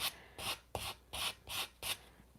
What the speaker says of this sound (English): light sanding and a couple of.